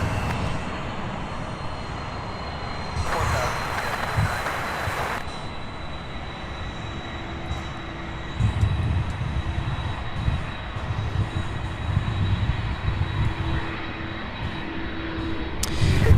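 A jet aircraft taxis close by at Louisville's SDF airport, a steady loud engine whine and rumble with a brief burst of rushing noise and a swelling roar later on.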